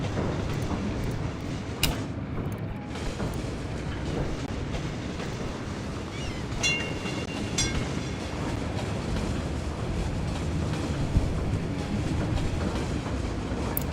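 Tram rolling along its line in the Cities: Skylines city-building game, a steady rumbling rail run with clickety-clack wheel noise and occasional brief squeals, continuous and moderately loud with no talk.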